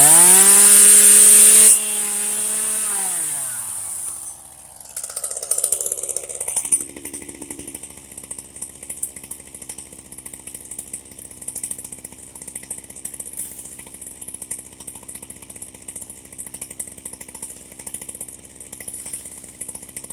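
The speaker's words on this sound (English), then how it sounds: "For those that are wondering what chainsaw I'm using this Ryobi 16 inch." A Ryobi 16 inch chainsaw revs loudly, bogs down as it bites into a small maple tree, then settles into a steady idle buzz with faint rattling.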